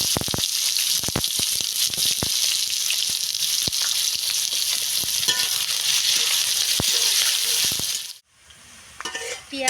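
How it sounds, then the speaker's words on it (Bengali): Chopped onion sizzles and fries steadily in a pan with whole spices (black pepper, cloves, cinnamon, cardamom), loud and close with occasional stirring clicks, then the sizzle drops away abruptly near the end. "পেঁয়াজ আমার লাল লাল করে ভাজা হয়ে গিয়েছে"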